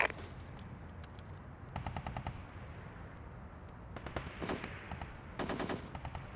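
Bursts of gunfire in the Full Spectrum Warrior video game, repeated rapid volleys and single shots at moderate distance over a low rumbling battlefield background.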